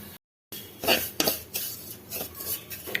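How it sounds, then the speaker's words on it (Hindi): Vermicelli roasting over a low flame is turned in a pan with a metal spoon, giving close, dry scraping strokes and light clinks in an uneven rhythm after a brief silence. "सेवई को धीमी आंच में धीमे धीमे भूनेंगे, गुलाबी होने तक भूनेंगे"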